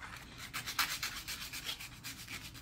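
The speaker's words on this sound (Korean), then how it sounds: "이 한쪽 면만 살짝만 갈아줄 거예요." One face of a wooden tool is being sanded lightly by hand. The rubbing comes close and quiet, in a steady back-and-forth rhythm of short, gritty strokes.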